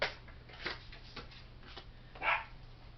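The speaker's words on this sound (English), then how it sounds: "Dogs are barking." Dogs bark a few times at irregular intervals, faint and distant, with the loudest bark near the end over a low steady background hum.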